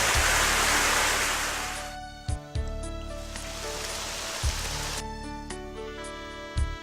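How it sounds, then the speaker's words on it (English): Steady broadband rain hiss falls in the video game Tales from the Reaper, a dense wash over game music tones, broken by a few short louder knocks and dropouts as the downpour continues. "It's also raining."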